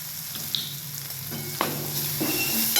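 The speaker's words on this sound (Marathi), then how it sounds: "याला सर्व आपल्याला चांगलं असं भाजून घ्यायचे छानपैकी असं तेल सुटायपर्यंत भाजायचे" A spiced masala of turmeric, coriander, red chilli, garam masala and roasted gram flour is stirred and roasted in oil, with a steady close sizzle and a few scraping stirs, no talk.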